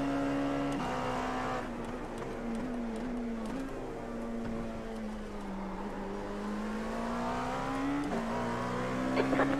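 An LMP2 race car engine in the iRacing simulator at the Charlotte Roval drones steadily at high revs, with slight pitch dips and a brief gear change near the end, loud and continuous with no talking.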